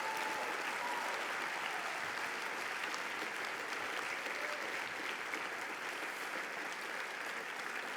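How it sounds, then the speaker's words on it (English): Sustained applause from a gala audience at a charity event, steady and dense throughout, heard at moderate distance with no talk over it. "Give them another round of applause"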